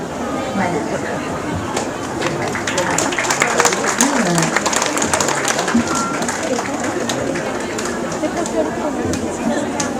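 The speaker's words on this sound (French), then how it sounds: "On peut applaudir bien fort, mesdames et messieurs, s'il vous plaît." An audience at a Réunion theatre performance by a madrasah troupe applauds steadily at middling distance, a dense even patter of clapping with crowd chatter mixed in.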